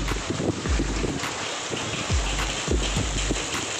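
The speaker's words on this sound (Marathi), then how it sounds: "पाऊस पण भरपूर आहे" Heavy rain pours steadily over an outdoor scene, a continuous hiss with wind rumbling against the microphone and a few low thumps, with no talking.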